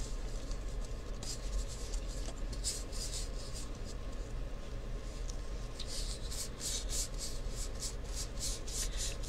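Paint being rubbed onto a taped cup while making an ombre leopard design, a soft continuous dry scraping and brushing close to the mic, with light rhythmic strokes near the end.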